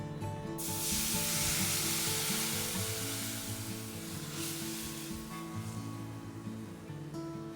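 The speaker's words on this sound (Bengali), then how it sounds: "আমরা দেব কিছুটা কালো জিরে আগে থেকে বানিয়ে রাখা মিক্সচারটা তেলে দিয়ে দেবো" Black cumin and a spice mixture dropped into hot oil left from frying fish burst into a loud, close sizzle that gradually settles over several seconds, with a low tonal hum underneath.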